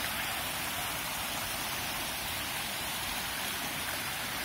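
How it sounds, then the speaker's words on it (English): A small babbling brook flows under Stubbings Bridge in Wharfedale, a steady, close, rushing wash of water that stays constant throughout with no voices. "Little babbling brook."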